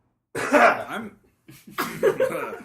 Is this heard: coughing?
yes